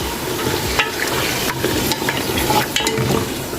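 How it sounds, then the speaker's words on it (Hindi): Mutton trotters sizzle in masala in a pan while being stirred, with a steady close frying hiss broken by repeated scraping and stirring clatters and no talking. "1 से 2 मिनट के लिए मसाले के अंदर मटन के पाए डालकर अच्छी तरह उनको भूनेंगे।"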